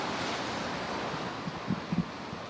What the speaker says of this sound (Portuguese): Hoje está ventando bastante aqui